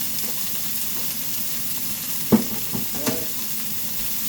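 Beef frying hot in a pan, a low steady sizzle close by with a few sharp spatters and scrapes partway through, no talk.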